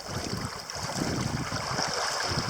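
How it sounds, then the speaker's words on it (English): Wind-driven waves on a big, round open lake, a steady wash of lapping water against a boat with wind rushing constantly behind it. "so it doesn't take much wind to kick up some waves. These aren't real bad at all."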